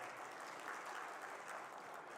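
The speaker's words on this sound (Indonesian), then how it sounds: "Boleh dong tepuk tangan buat kita bersama." Audience applause at a KADIN Sumatera Utara board inauguration ceremony, a dense steady clapping of a large crowd filling the whole stretch at moderate distance.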